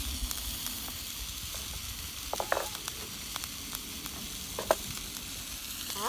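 Sausages frying in a pan over a small wood-burning stick stove outdoors in the woods, a soft continuous sizzle with occasional crackles and pops standing out.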